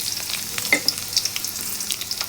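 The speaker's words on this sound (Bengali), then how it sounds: "এখন আমি পেঁয়াজ কুচি দিয়ে দেব।" Chopped onions frying in hot oil in a wok, a close, steady sizzle with crackling pops and brief stirring clinks scattered across it.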